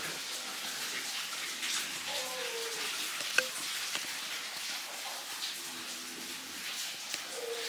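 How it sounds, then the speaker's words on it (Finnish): Soft, steady trickle of running water in a hotel room, fairly faint, with a few small drips and clinks over a broad watery hiss. "vesi lorisee."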